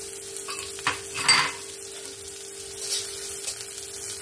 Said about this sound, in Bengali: জিরে ফোড়ন দিয়ে তারপরে আমি পেঁয়াজ কুচি যেটা রেখেছি পেঁয়াজ কুচিটা দিয়ে দেব